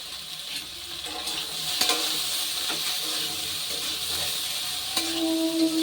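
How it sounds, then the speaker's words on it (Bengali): Taro stems with salt and turmeric being stirred in a hot pan, giving a continuous close sizzle with scattered light scrapes and clinks of the spatula throughout, no voices. "এবার নুন হলুদ দিয়ে ভালো করে নেড়ে নিয়েছি"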